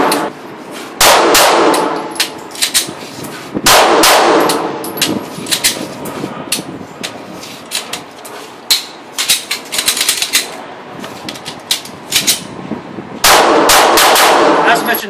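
Live fire on a shooting range during malfunction-clearing drills: a few loud, sharp shots spaced seconds apart, with bursts of metallic clicks and clatter between them.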